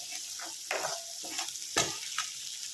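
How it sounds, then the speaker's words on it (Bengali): A spice mixture for coconut okra fries in a pan, a soft, quiet sizzle broken by several light stirring scrapes. "এটাকে ভালো করে ভেজে নেব যাতে মশলাটা ভালো করে মিশে মশলাটা খুব সুন্দর করে ভাজা ভাজা হয়"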